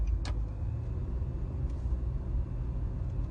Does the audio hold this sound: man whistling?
no